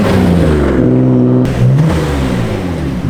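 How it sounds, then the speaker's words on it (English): A Nissan Skyline R34 GT-R revs in a parking lot, its engine note climbing and falling in loud, close pulls with a brief break midway. "RJ punting around an R34 GTR in a parking lot definitely just made his week."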